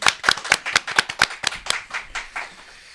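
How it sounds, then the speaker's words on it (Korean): A studio audience applauding on a Korean talk show: about a dozen sharp, distinct claps in a quick, steady rhythm, close and loud, thinning out and fading over the last second. "큰 박수로 환영해 주십시오."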